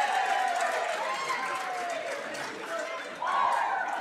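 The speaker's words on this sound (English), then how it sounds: "Crowd on its feet." A basketball crowd stands and cheers during a free throw in a close game, a sustained roar with a swell near the end, heard under a commentator's voice.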